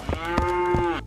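A cow moos once in a long, steady, harmonic low call lasting about a second, close and loud, with no talking around it.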